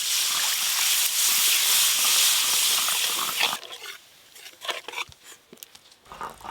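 Water poured into a frying mustard-ginger spice paste gives a loud, harsh sizzling hiss for about three and a half seconds, then quiets to scattered crackles and pops close by.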